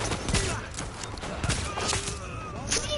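Gunfire from the video game The Division rattles off in rapid bursts of sharp shots, loud and close, with game effects mixed in behind.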